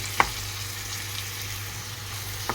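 An Indian olive pickle mixture with chili powder, turmeric and salt is stirred by hand: a couple of soft spoon clicks against the bowl over a quiet, steady background hum, with no talking.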